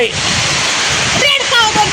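Heavy rain pours at a rural home while runoff water gushes past, a loud, dense, steady wash of noise with a voice faintly speaking under it.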